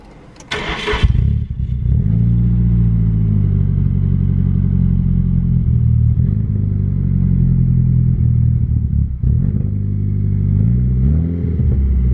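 A Nissan SR20 engine, back after years off the road, cranks briefly, catches and runs loud and close with throttle blips, settling into a rough, uneven idle.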